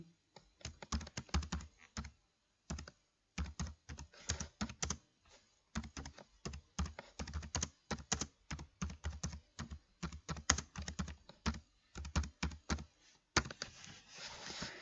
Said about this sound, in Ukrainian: Ми можемо набирати якийсь текст з клавіатури.